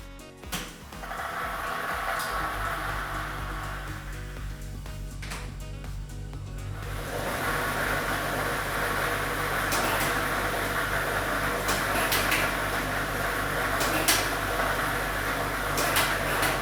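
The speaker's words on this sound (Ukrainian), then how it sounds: "Тиражна комісія до початку гри довільно обрала лототрон Б комплект кульок номер 1 1, і ми вмикаємо лототрон." A lottery ball drawing machine is switched on for a Ukrainian state lottery draw: a mechanical whir rises after a few seconds, then the drum runs as a steady, loud roar with faint rattling of the balls, and no voices.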